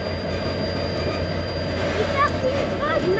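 Train of wagons on the mountain railway at San Antonio de los Cobres, a continuous rolling rumble with high wheel squeals near the end, and a voice talking over it.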